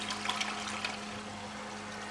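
Water draining away down a freshly unclogged toilet with a new corrugated drain hose: a faint, brief trickle and gurgle lasting about two seconds, heard alone.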